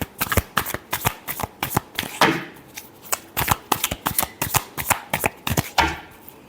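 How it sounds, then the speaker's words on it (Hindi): Tarot cards are shuffled in quick, close riffs, a rapid run of crisp slaps and flutters with one longer riffle partway through. "last shuffle"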